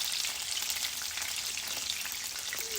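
Lemon herb chicken searing in a pan, a steady, even hiss of crackling sizzle that holds for the whole moment with no voice over it.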